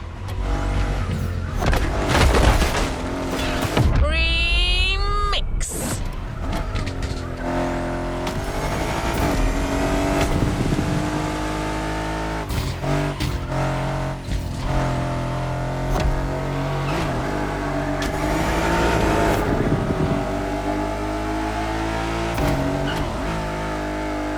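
An Aston Martin driven in The Crew Motorfest, its engine revving hard and climbing through gears with sharp pitch drops at shifts, tire squeals and skids, loud and close throughout.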